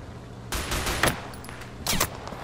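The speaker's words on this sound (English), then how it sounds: "Someone's shooting at me." Gunfire in the shooter game Total Conflict: Resistance comes in two distinct bursts of rapid shots, the first longer and the second shorter. Both are moderately loud against a low background hum, with no talk.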